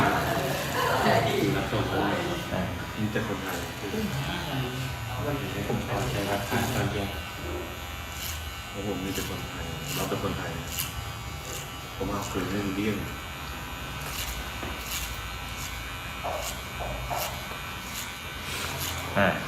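Electric hair clippers buzz continuously while cutting a side part haircut, a steady close motor hum that runs throughout as a person talks over it.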